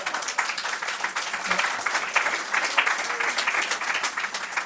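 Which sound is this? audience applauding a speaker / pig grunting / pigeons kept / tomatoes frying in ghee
audience applauding a speaker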